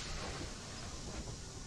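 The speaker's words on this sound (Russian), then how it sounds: "Ладно, поезд заработал" A train starting to move in Poppy Playtime Chapter 2 gives off a steady, dense rumbling hiss, continuous and fairly quiet with no distinct clanks or talk over it.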